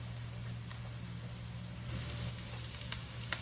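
Onions caramelizing in a pan give a steady, low sizzling hiss with a few faint clicks and pops, heard alone with no talk.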